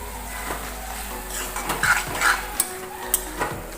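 Eggplant sabzi with fresh coriander is mixed in a pan, giving a soft frying hiss broken by several spoon scrapes and clinks against the metal, close and fairly loud near the end.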